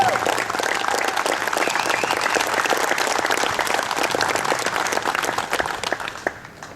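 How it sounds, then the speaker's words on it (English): Stadium crowd at a softball hall of fame game applauding military members on the field, broad sustained clapping and cheering from a large audience that tapers off at the end. "Please join me in a round of applause for all of the members of the United States military present on the field"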